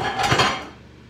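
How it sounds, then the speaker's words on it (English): A microwave steamer tray slips out and clatters, a short burst of hard plastic-and-dish rattling with a couple of sharp knocks, close and loud, quickly fading into stillness. "Oh, my tray came out."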